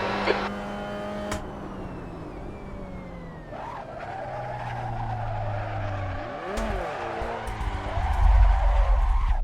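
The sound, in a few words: Mazda MX-5 race car sliding on cold tyres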